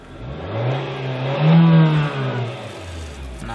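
A Nissan Juke Nismo's 1.6-liter turbocharged engine revved from idle, the tone climbing smoothly to a peak and dropping back down, loud and close, with a faint turbo whistle and no talking.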